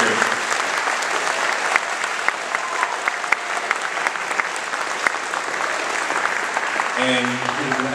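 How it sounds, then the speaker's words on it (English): An audience applauds students at a school performance event, a dense, sustained round of clapping filling the room at steady volume, with faint voices near the end as it winds down. "all of these students deserve a round of applause for their amazing hard work this year."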